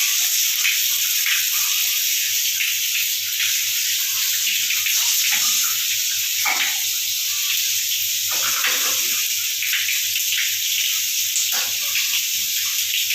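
Water running steadily through the pipes of a Venus water heater setup, a constant hissing flow that stays loud and unbroken throughout, with no talking.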